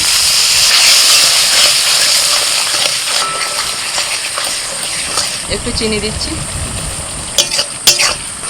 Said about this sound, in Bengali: মিনিট পাঁচেক ধরে মশলাটা কষে নিয়েছি